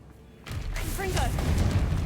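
A Confringo explosive spell cast in the video game Hogwarts Legacy bursts in after a quiet start, with a sustained fiery blast and crackling whooshes that fill the rest of the clip.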